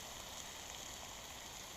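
Steady rain patters down in a woodland wild camp in northeast England, a continuous close hiss of drops with no pauses and no voices.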